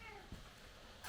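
A cat meows to be let into the house on a rainy day, one short, clear meow close by, preceded by a brief whining tone and followed by a burst of hiss-like noise.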